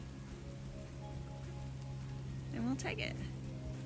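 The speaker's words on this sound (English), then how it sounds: "it has started to rain" Steady rain patters across open rock cliffs along the Appalachian Trail as a constant broadband hiss under low wind, with someone speaking briefly near the end.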